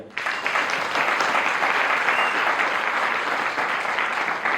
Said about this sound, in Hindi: इसलिए जोरदार तालियां